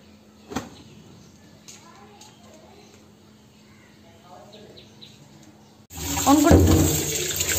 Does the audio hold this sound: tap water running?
yes